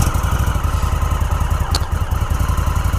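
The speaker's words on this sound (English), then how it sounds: "So let's give it some revs." A 2018 Indian Scout Bobber on its stock exhaust rumbles close up and loud, a throbbing steady engine pulse with a brief blip of revs partway through.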